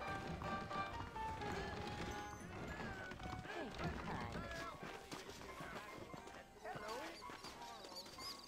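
Horse hooves in Red Dead Redemption on Xbox One X, with saddled horses setting off down a trail: faint, quick hoofbeats under game music and voices.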